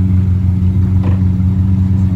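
Pagani Zonda F supercar on snow at a St. Moritz winter car event, its engine giving off a steady, loud, low droning hum with no talking.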